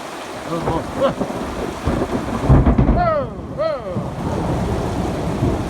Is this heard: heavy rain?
yes